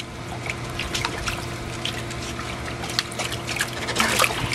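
A dog splashes in outdoor water, making continuous trickling, sloshing and dribbling sounds at close range with scattered sharper splashes that grow busier toward the end, with no talking.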